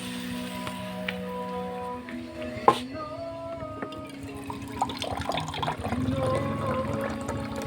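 Water poured into a cooking pot, a rushing, splashing pour with clinks and clatter of kitchenware, close and fairly loud, with no talking.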